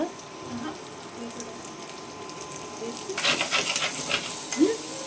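Cashew paneer curry masala being stirred and fried in a pan, a soft steady sizzle with scraping spoon sounds that grow louder and busier partway through, close and without talk.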